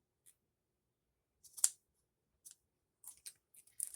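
Scissors snip and trim paper while an envelope is made, a few short quiet cuts spread apart with brief pauses, then a quicker cluster of snips near the end, no talking.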